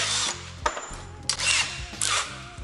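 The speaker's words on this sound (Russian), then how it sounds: "И дорабатываем потай под шляпку самореза." A drill bores a countersink for a screw head in a modified Vesuvius fireplace damper, in three short close bursts separated by brief pauses.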